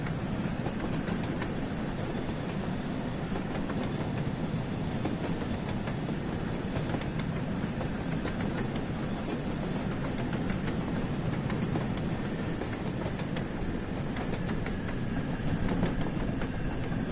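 A steam train in the Train Sim World 3 video game runs along the rails with continuous rolling rumble, rhythmic wheel clatter and a thin wheel squeal for several seconds, steady and near, without talk.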